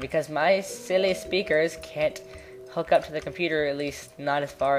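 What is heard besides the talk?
No distinct noise like a dog, phone or traffic.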